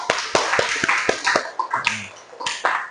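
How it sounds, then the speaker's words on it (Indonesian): A small audience at a university classroom presentation gives group 1 a short round of applause: a handful of separate, crisp claps in quick succession, then a brief soft tone and a few more claps. "Beri tepuk tangan untuk kelompok 1."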